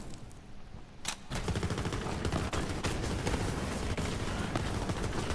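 Pistol fire with explosive blasts in the shooter Borderlands 3, a sharp crack followed by sustained, dense booming and rapid shots that continue steadily throughout.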